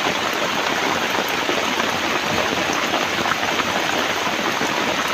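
Steady, fairly loud rain pours down at an outdoor spot while fishing for tilapia, a continuous even hiss of drops with no pauses or talk.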